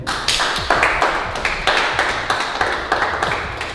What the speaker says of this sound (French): Je pense que vous avez le droit à vous applaudir vous-même.